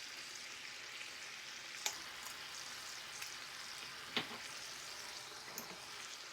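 Turmeric and spices for a beef tajine fry in a pan with a soft, steady sizzle, punctuated by a few brief crackles and pops, quiet and close with no voices.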